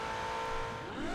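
A Ferrari Portofino engine hums in the racing game Forza Horizon 4, a fairly quiet, steady drone that climbs in pitch near the end as it revs.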